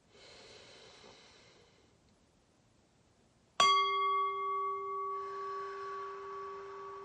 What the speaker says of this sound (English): I invite you to take 3 deep breaths with me